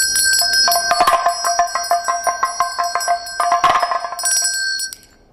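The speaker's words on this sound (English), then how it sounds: "The bell start first, the Damaru end first." A handheld ritual bell and a damaru drum sound together: a bright, sustained ringing bell runs throughout while rapid rattling drum strikes beat in quick bursts, ending with the bell ringing out briefly alone.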